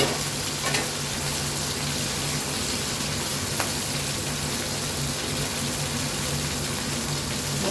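Aloo posto, potatoes with poppy seed paste, sizzling steadily in a frying pan as it is stirred, a constant close hiss with occasional soft scrapes and no talk.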